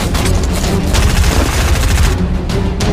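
Dense, loud gunfire in Fortnite, a continuous rattling barrage of rapid shots and booms that fills the whole stretch without letup.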